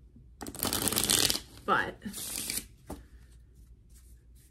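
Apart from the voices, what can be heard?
shuffling a deck of cards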